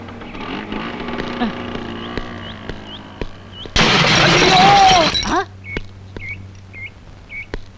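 A scooter crashes with a sudden loud burst of shattering and scraping noise over a dull engine drone, then fades as sharp clicks and chirps continue.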